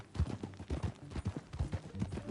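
Horse hooves clip-clop steadily in a western video game, a regular rhythm of close, soft hoof strikes with a faint low rumble underneath and no talking.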